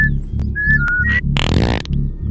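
Character in the video game Oddworld: New 'n' Tasty whistling a few short, pitched notes in quick succession over steady low game music, with a burst of noisy effects in the middle.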